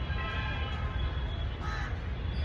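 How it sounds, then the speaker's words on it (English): Crows caw in the distance over a steady low rumble of traffic, the calls faint and scattered. "And you can hear the sound of birds as well."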